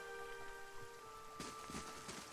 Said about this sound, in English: And it's been raining non-stop here.